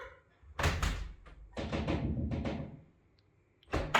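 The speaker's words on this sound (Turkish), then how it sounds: "Kapıyı çal demedim. Aç dedim." Several knocks and thumps on a door in a horror game about cursed doors, arriving in loud close bursts separated by short pauses.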